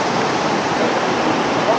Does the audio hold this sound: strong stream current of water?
yes